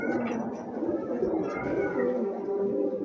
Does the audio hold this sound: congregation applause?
no